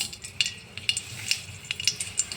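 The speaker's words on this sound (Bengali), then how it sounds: "তেল দিয়ে একটি শুকনো লঙ্কা আমি ছিঁড়ে দিলাম।" Dried red chili torn into a little hot oil in a wok: a soft, steady sizzle with light, regular clinks of a spatula stirring against the pan.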